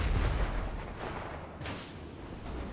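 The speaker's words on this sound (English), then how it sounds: "There's another explosion." An explosion in Grand Theft Auto V, a loud low rumbling blast that booms and slowly rolls off, with a second softer thud midway.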